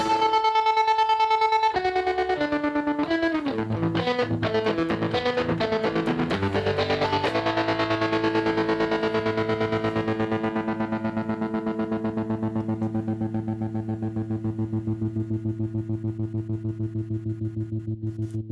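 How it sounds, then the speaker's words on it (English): An electric guitar note rings out through a Line 6 MM4 pulsing tremolo effect, the throbbing gradually slowing as the sustained tone fades. "as the volume is dropping, the tremolo is starting to slow down"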